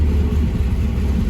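An El Co car engine running on a winter day, giving a steady, close low rumble with slight surging and no voices.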